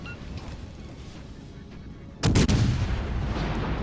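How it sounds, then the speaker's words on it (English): A heavy naval gun salvo fires in the World of Warships Legends video game, a single loud, close boom that breaks the quieter ambience and leaves a sustained rumbling tail. "Take some shots at the corvette, hopefully set him on fire."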